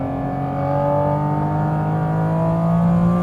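Used Honda Fit driving hard on a race track, its engine a loud, steady drone with clear harmonic tones rising slightly in pitch as it accelerates, heard alone without talk.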